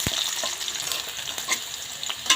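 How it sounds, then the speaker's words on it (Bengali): Onion and chili frying in a pan for a prawn and bottle gourd curry, a close, steady crackling sizzle with a few sharp stirring scrapes and pops, no talk. "পেঁয়াজ মরিচ শব্দ ভাজার"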